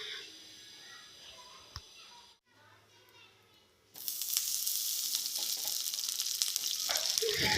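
Tempering for chicken kurma fries in hot ghee in a pan; after a quiet spell with some talk, a loud, dense sizzle erupts and continues steadily, close by.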